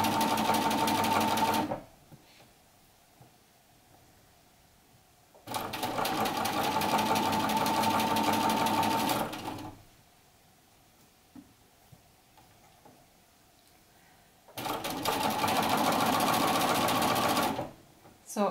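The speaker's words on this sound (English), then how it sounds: "Keep sewing" A sewing machine stitches a set-in sleeve in the round, running in three loud bursts of several seconds each, separated by quiet pauses while the fabric is adjusted.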